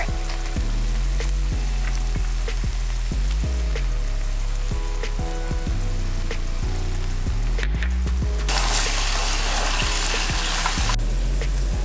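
Kimchi stir-frying in a pan, a steady loud sizzle that runs throughout with repeated scraping strokes of a utensil stirring, growing harsher near the end, no voices.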